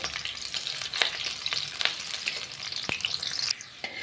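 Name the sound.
onions frying and being stirred in oil in a wok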